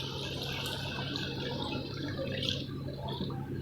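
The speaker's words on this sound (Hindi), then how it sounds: "तो मैं इसमें 1 गिलास पानी डाल दूँगी" A glass of water pours into a pot of potato biryani masala, a steady liquid rush running through the whole short stretch, fairly close, with no talking.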